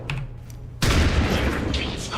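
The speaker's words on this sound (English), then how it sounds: "we'll AP grenade him" An AP grenade detonates in a turn-based strategy game, a sudden loud blast that follows a stretch of quiet low hum and then trails off into a long rumbling, crackling roar.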